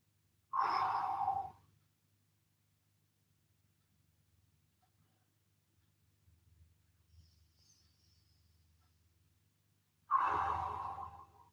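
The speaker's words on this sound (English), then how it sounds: "Big deep breaths." Two deep, slow breaths during stretching, a long exhale near the start and another about ten seconds later, close and clear, with near silence between them.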